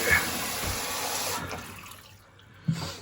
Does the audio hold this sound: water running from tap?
yes